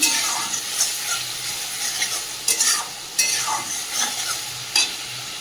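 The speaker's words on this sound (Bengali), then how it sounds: "গোটা জিরে আর গোটা ধনে বেটে রেখেছিলাম দিয়ে ভালো করে মশলাটাকে কষিয়ে নেব" A paste of ground whole cumin and coriander fries in a pan for a meat dish, with a steady sizzle broken by repeated scraping stirs from a spoon, near and fairly loud.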